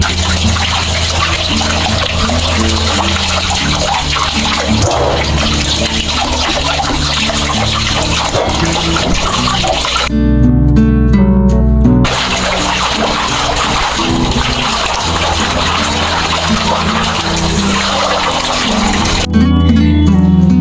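Radish and its separated leaves washed under running tap water, a continuous loud splashing rush with brief pauses where the flow changes, no talking.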